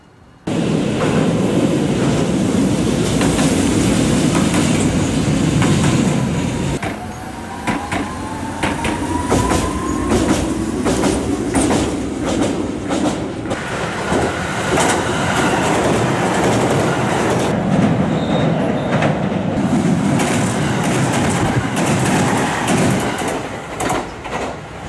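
A Hiroshima Electric Railway tram passes in Hiroshima city, a loud continuous rumbling roll with rail clatter and a brief high squeal, heard close by with steady wind-like noise and no speech.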